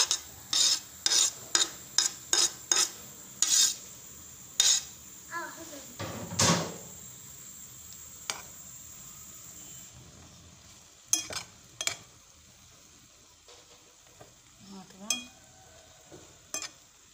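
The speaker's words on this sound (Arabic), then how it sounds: "هبدا يتقلى. دوك نرميلو البصل" Onions fry in a pan while a utensil scrapes and stirs, giving a quick run of crisp, rhythmic scrapes over a soft steady sizzle. Later strokes come more sparsely, and voices murmur faintly in the background.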